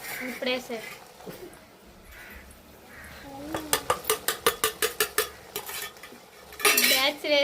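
Chili powder going into chicken frying in a pan outdoors, stirred with a metal spoon that clanks against the pan in a quick run of sharp scrapes and taps, with faint sizzling underneath and a voice speaking briefly before and after.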